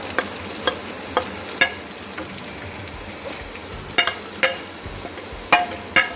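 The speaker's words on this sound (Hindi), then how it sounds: "इसको गोल्डन ब्राउन होने तक प्याज को भूनेंगे हम, लो से मीडियम फ्लेम पर।" Finely chopped medium-size onion frying in a pan over a low-to-medium flame: a steady close sizzle with scattered sharp pops and crackles throughout.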